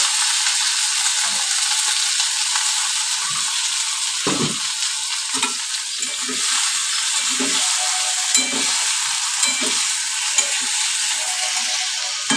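Food sizzles steadily in a hot pan on a home stove, with a continuous frying hiss overlaid by repeated scraping and clinking as a utensil stirs the pan at irregular intervals.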